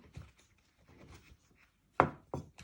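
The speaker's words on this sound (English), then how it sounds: "you're just slicing them into little pieces" A kitchen knife chops food into small pieces on a wooden board while preparing spaghetti bolognese, giving a few soft taps followed by two sharper, louder close cuts near the end.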